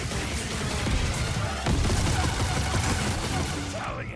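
Enemy blaster fire from Rayvis in Star Wars Jedi: Survivor, a dense, continuous crackle of rapid energy shots and impacts, loud and steady throughout with busy battle noise underneath.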